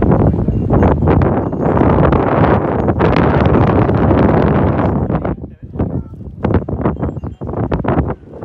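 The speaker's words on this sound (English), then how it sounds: "But that wind, ruins everything." Strong wind buffets the microphone on a clifftop in Ia, Santorini, with a loud, continuous roar that swells and drops in gusts. It turns choppier and breaks up toward the end.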